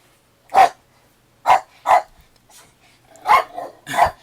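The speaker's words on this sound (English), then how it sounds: "Sorry guys about my dog." A dog barks in five loud, close single barks spaced irregularly over a few seconds, with silence between them.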